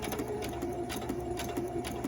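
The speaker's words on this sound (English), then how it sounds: "I'm just doing a top stitching along the top edge." A sewing machine top stitches along the edge of a fabric face mask, a quiet, rapid and even mechanical chatter running continuously.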